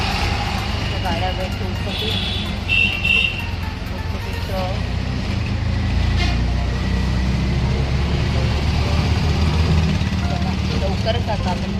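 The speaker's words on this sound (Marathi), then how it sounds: "इथं गाड्यांचा आणि हवाचा खूप सारा आवाज आहे." Vehicles pass and wind blows in a constant low rumble on the way to the Vashi APMC wholesale vegetable and fruit market. The traffic noise stays heavy throughout, and someone speaks on top of it.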